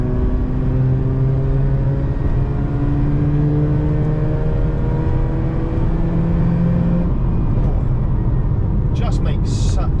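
A Mazda RX8 with a rotary engine, prepped for drifting, is driven with its engine note climbing in repeated smooth sweeps, steady and fairly loud over constant road and wind noise.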